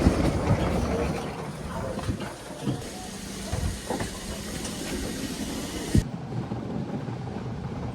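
A second-class passenger train rolls toward Colombo, Sri Lanka, with a continuous rumbling, rattling carriage noise, clickety-clack and hissing, heard from inside the car, with a few louder knocks and a sudden drop in brightness near the end.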